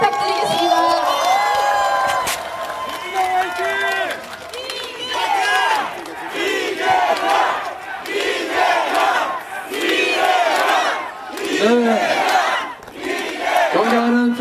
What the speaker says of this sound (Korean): 이제부터 이재명 당대표님의 모두 발언이 있겠습니다. 뜨거운 박수 부탁드리겠습니다.